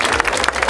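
Crowd applause for a carnival comparsa commission at the Jujuy carnival's Desentierro celebration, a dense and steady burst of many hands clapping at close range, with no talk over it.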